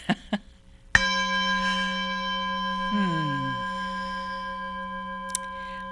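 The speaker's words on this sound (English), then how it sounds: "I'm going to gong on that" A gong struck once after a couple of light taps, ringing out in a long, sustained metallic hum with wavering overtones that slowly decay, with a small tap near the end.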